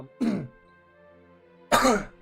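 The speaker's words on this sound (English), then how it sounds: "just coughing." Two separate short, harsh coughs, the second following after a quiet pause of over a second.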